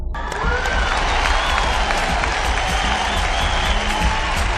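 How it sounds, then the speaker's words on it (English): Audience applause at a Miss Heritage Global pageant as the top five contestants are announced, a loud, dense wash of clapping with some cheering that carries steadily throughout. "A round of applause, ladies and gentlemen,"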